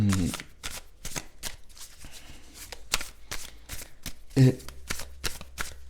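Tarot cards are handled and shuffled in a run of crisp, quick riffling flicks and soft slides, close and fairly quiet, with a brief spoken word partway through.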